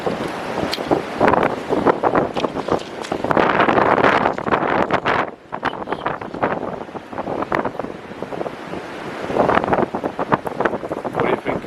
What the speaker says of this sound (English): The wind is strong today.